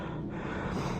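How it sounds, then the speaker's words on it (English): Heavy, close breathing of a hiker running up a steep mountain trail, a steady run of panting and gasping breaths with no talk. "I'm breathing heavy"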